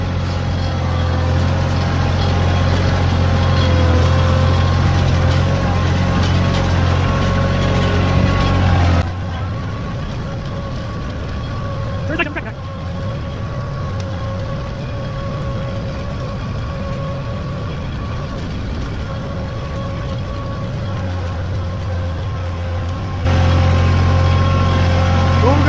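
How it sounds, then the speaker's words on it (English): A tractor engine chugs loudly and steadily nearby during firewood processing on a homestead, dropping to a lower idle in the middle before revving back up. "I'm not even sure you can hear me over the tractor."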